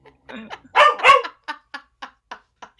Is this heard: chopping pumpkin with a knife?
no